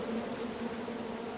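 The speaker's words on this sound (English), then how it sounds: "Come at me, bees!" Bees buzz in the King's Quest video game, a steady close insect drone with a clear humming tone, heard alone.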